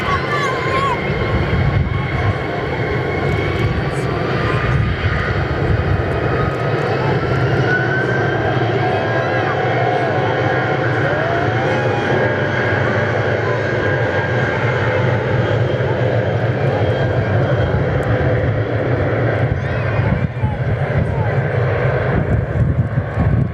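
An airplane takes off from runway 03 at Perth Airport, its jet engine roar loud and steady for over twenty seconds against wind noise, with faint radio chatter and voices underneath.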